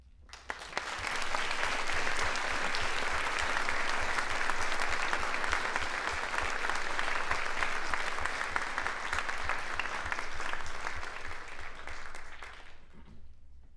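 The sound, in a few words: audience applause at veterans plaque dedication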